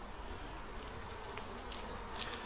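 Honeybees hum in a steady, continuous drone inside an opened beehive, close and unbroken, with faint higher whines drifting over the dense buzz.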